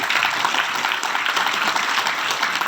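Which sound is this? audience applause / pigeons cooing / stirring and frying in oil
audience applause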